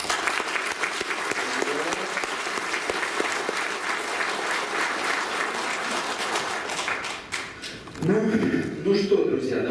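Loud, sustained applause from an audience filling a hall at a team presentation, dense clapping throughout with voices and cheering rising near the end.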